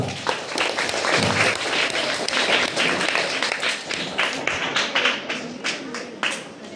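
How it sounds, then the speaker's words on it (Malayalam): Audience applause at a 74th school anniversary programme: dense, loud clapping from a large crowd, sustained evenly for several seconds with no voices over it. "അതിന് നിങ്ങളൊരു നല്ല കയ്യടി കൊടുക്കണം കേട്ടോ."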